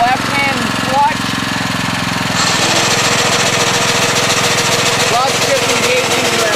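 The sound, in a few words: Sand Man machine running with its shaker engaged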